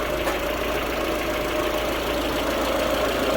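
A Citroen C5/Peugeot 407 car engine running at a steady idle after being started during an engine oil change, a constant close hum with no speech.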